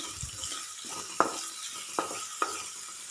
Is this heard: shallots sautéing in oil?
yes